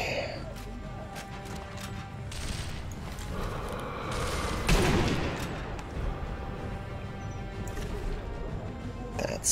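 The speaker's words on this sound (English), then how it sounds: "Someone's shooting at me." Gunfire in Sniper Elite V2, a dense wartime battlefield mix with sustained volleys and a louder blast near the middle, steady and fairly close throughout, with someone talking over it.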